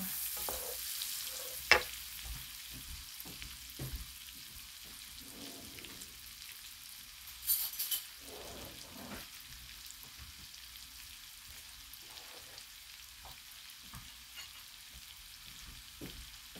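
Olive oil and butter heating together in a pan, a low continuous sizzle with intermittent stirring scrapes and a few sharper clinks, close and fairly quiet.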